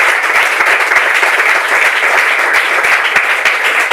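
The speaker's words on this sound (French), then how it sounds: "Allez, on va applaudir son intervention." Steady audience applause fills the room at a French-language talk show after a pastor's contribution, dense and even throughout with no voices on top.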